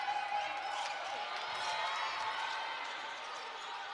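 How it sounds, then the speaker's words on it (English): A crowd fills a netball arena at the Africa Netball Cup in Swakopmund, Namibia, with steady loud cheering and whooping throughout, a continuous roar heard from within the venue. "the arena is so loud, the crowd is so loud"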